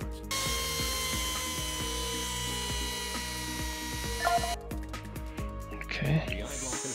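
A VR knee surgery simulator plays a synthetic bone-cutting saw sound for an anterior resection, a steady whining buzz with ratcheting tones and shifting pitch, with a person talking over it.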